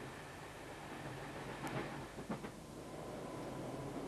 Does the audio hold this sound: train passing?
yes